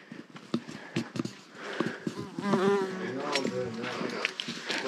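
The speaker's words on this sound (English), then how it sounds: "I thought it was a freaking beehive, but just a single bee" A single bee buzzing close by in a Georgia canyon, a wavering drone that rises and falls as it moves around, with clicks and rustles from someone nearby.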